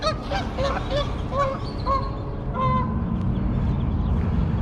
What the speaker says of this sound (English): Those mallards or ducks or what are they?